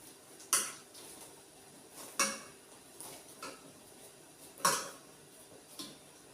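A spoon stirs crushed cardamom into jackfruit batter for Kerala-style chakkayappam in a bowl, giving several sharp, separate clinks against the bowl at irregular intervals, with soft scraping between them and no talking.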